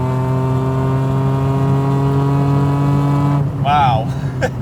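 A BMW Z4 M Coupe with its naturally aspirated S54 engine accelerates, a loud steady harmonic engine drone rising in pitch for several seconds, then easing off as a voice speaks over the cabin noise.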